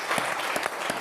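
Audience applause for a guest introduced at a panel on business ethics and public trust, a steady wash of clapping with slight surges, filling the whole brief moment.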